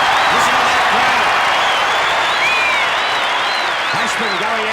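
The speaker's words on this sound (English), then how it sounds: "Listen to that crowd." A large crowd at a 1984 Australian football match between Geelong and Carlton roars and applauds continuously, a dense loud wash of cheering with a commentator talking over it.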